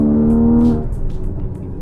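A 2016 Porsche Boxster GTS with a 3.4-liter, 330-horsepower flat-six and 7-speed PDK gives a brief, close, steady engine drone that fades after under a second into a lower rumble.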